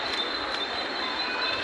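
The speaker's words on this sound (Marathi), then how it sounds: "AC ट्रेन नंतर आता आपली स्लो ट्रेन आली साधी" A slow local passenger train rolls into a station, a steady broadband rumble of wheels and carriages with a faint high steel squeal running throughout, loud and close with no voices.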